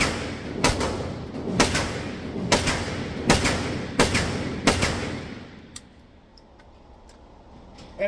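Six sharp, loud pistol shots from an S&W Response firearm at an outdoor range, fired slowly and evenly about one per second, each with a short echoing tail, then quiet.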